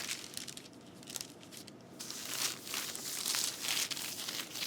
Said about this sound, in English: So I'm just going to put another sheet of parchment on top.